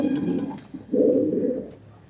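A racing homer pigeon coos close by in its loft, giving a short low call and then a longer, louder rolling coo. No one speaks.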